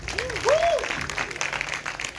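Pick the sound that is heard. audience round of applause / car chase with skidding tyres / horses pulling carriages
audience round of applause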